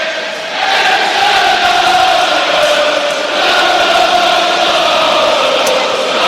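A home football crowd at Swansea fills the stands with massed singing of hymns and arias, a broad, sustained roar of voices that swells and holds, heard from some distance.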